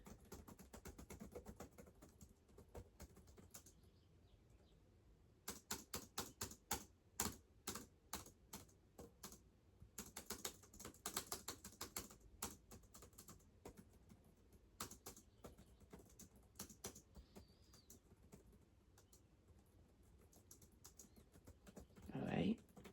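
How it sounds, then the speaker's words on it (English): Steady computer keyboard typing, close and fairly loud, with dense bursts of keystrokes broken by short pauses, running alone with no voice over it. "Hope you guys enjoyed this keyboard typing video."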